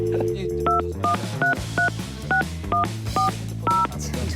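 A telephone keypad dials a number, about ten clipped two-tone beeps in a quick even rhythm, close and clear over a low background bed of sound.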